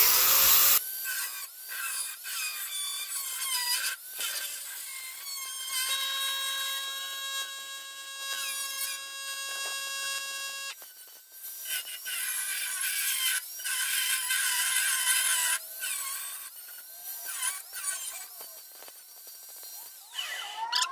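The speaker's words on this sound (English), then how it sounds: "I'm just using a grinder with a metal cutoff wheel" An angle grinder with a metal cutoff wheel cuts through bolts for a workbench build. It gives a high, sustained screech with ringing metallic tones, briefly dropping and resuming through long cuts, close and loud with no talking.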